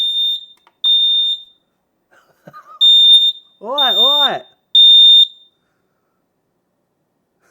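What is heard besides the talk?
X-Sense wireless smoke and heat alarm sounding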